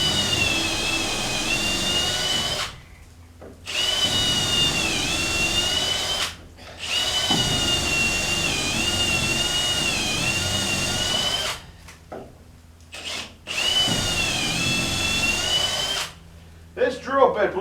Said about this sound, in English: This drill bit, believe it or not, when it hits nice wood, not hard as a rock wood, it drills right through something.